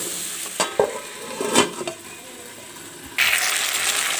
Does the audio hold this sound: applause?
no